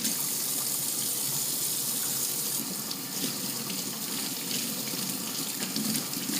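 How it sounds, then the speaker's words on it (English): Tap water runs steadily into a sink while hands are washed, a continuous close splashing gush with no talking. "I'm going to wash my hands"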